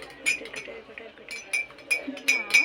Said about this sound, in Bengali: তারপরে আমরা চিনিটা একটু হালকা নেড়ে দেবো